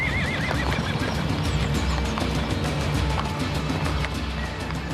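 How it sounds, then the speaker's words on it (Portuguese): Horses neigh with a loud wavering whinny at the start, while hooves clip-clop steadily on a hard surface throughout, close by and without speech. "Os cavalos que vocês têm aqui são lindos."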